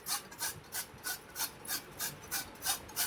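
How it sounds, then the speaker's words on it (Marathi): Carrots rasped against a kitchen grater in a steady rhythm of about ten evenly spaced scraping strokes, close and fairly quiet, with no talk. "किसणीवर आपल्याला किसून घ्यायचंय गाजरला."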